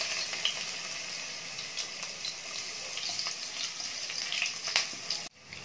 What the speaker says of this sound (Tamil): இந்த மாதிரி பூண்டை தட்டிட்டு எண்ணெய் காஞ்ச உடனே எண்ணெயில் சேர்த்துக்கோங்க.